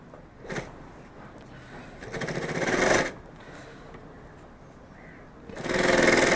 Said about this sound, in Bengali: লম্বা সাইডটা দুই পাশে চেনটা সেলাই করে দেবো